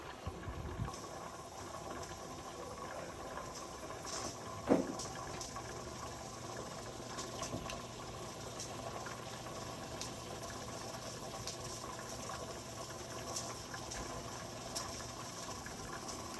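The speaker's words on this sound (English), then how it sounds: "it jiggles to release steam to try to keep the PSI at and around whatever the weight it's set to" Steam hisses steadily from a pressure canner as its weighted regulator, set to 10 PSI, releases pressure; a faint continuous rushing with no distinct pauses runs throughout.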